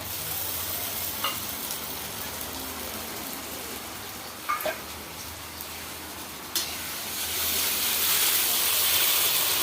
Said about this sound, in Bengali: আমি দিয়ে দিলাম মশলাগুলো, দিয়ে ভালো করে কষিয়ে নেব